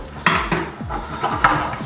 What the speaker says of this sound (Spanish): Lo revolvemos un poquito para que no se queme y que se vaya tostando todo.